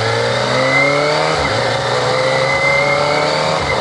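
Kawasaki ZX-25R motorcycle engine revving hard and steadily, its high-pitched wail climbing with rising harmonic tones, dipping briefly at the shift and climbing again, loud and close with no talking.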